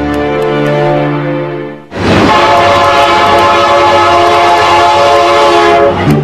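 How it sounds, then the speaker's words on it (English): A giant modern railroad locomotive sounds a steady multi-tone horn, then roars loudly past close by with a dense rumble and rattle of rail cars that continues to the end. "Today's giant locomotives are the latest muscle machines to power the railroad industry."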